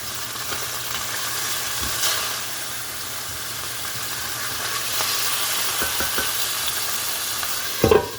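Food sizzles and fries in a pan just after being flipped, a soft, continuous crackling hiss with occasional spatula scrapes and taps, ending in a brief sharper clatter.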